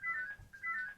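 A mobile phone rings faintly nearby with two short bursts of a trilling electronic tone separated by a brief gap, and no talk over it.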